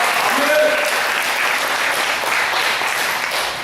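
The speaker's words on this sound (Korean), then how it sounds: "자, 주님께 영광의 박수." A church congregation at a special early-morning service applauds, a dense, loud wash of clapping that fills the space and stays steady for several seconds before easing slightly at the end.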